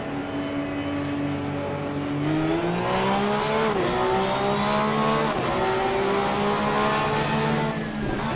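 Race cars at the start of a race at Mount Panorama in the Assetto Corsa Competizione video game, a loud massed engine drone rising in pitch as the pack accelerates, with gear-shift dips and no talk.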